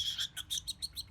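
A pet cockatiel gives a run of about eight short, bright chirps in a steady rhythm, close and fairly soft, with nothing else but a quiet background.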